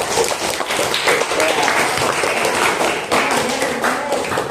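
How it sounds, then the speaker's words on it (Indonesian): Classmates in a high school classroom clap for presenting groups, a dense, steady patter of hand claps filling the room for several seconds, with some voices mixed in. "Beri tepuk tangan untuk kalian semua"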